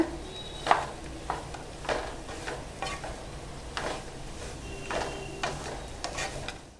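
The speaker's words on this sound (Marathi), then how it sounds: "एक मिनटं आपण व्यवस्थित परतून घेऊया" Rice with jaggery and salt is stirred in a pan, a spoon scraping and clinking in irregular strokes over a faint sizzle, fairly quiet and close.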